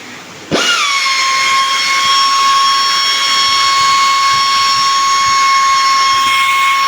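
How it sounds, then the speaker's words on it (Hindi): A rotary gouge tool on a radial tyre sidewall repair spins up at low rpm against tyre rubber, then holds a loud, steady high-pitched whine for several seconds. "रोटरी गाउज बोलते हैं इसे, और लो आरपीएम में चलता है।"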